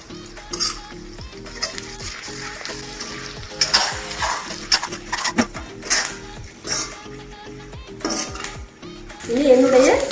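Beef fry with sliced chilli, curry leaves and tomato sauce sizzles in a pan while a spoon scrapes and clinks against the metal in irregular strokes. A voice speaks briefly over the cooking.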